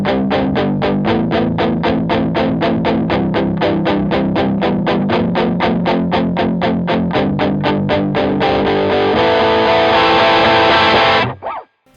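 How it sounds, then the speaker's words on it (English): Electric guitar palm-muted through a blues overdrive pedal with gain fully up, crunchy rapid chugging eighth notes in the driving rhythm of a pre-chorus, swelling into a sustained chord before stopping abruptly. "Gain is all the way up on the pedal, so it's offering quite a bit of crunch"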